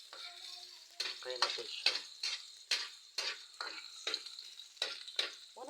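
Onion and garlic stir-fried in a home kitchen pan: a steady sizzle punctuated by about eight sharp spatula scrapes and clacks at a regular pace, with someone speaking briefly near the end.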